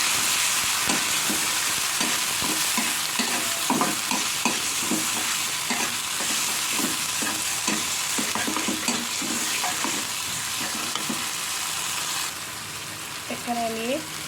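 Onions fry in a pan with nut paste, garlic paste and ginger paste, giving a loud steady sizzle broken by repeated scraping stirs. A faint voice is briefly heard near the end.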